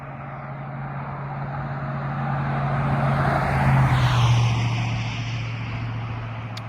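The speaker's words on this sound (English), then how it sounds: "that's just waiting for the car to go by" A car passes by on a roadside in Pennsylvania, its engine rising to a swelling whoosh in the middle and fading away again, with a steady low hum throughout.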